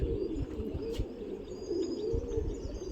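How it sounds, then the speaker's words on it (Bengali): Pigeons coo low and steadily in a continuous warbling chorus close by, released into a white morning sky, with no voices over them. "আজকে সকালে একটু টাইম করে আকাশে পায়রা ছাড়লাম"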